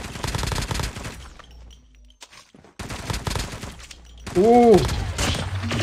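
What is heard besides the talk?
BK-57 gunfire in a video game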